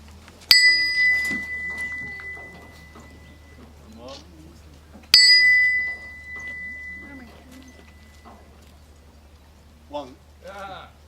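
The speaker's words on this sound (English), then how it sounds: "So Cuba will close by ringing the bell, which is a wedge for cleaving stone" A steel wedge used for cleaving stone is struck like a bell at an outdoor sculpture symposium, giving two sharp, ringing strikes several seconds apart with long sustained tones, while people talk quietly in the background.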